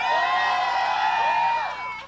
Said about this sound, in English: Alright, after all those screams,